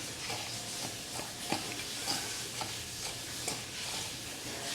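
Cucumber slices are tossed with salt in a bowl, making soft rhythmic scraping and stirring strokes, several sharp clicks spaced about every half second, close and quiet.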